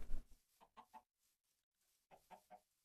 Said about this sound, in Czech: To tady je slepic.